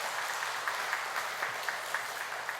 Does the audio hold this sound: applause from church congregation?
yes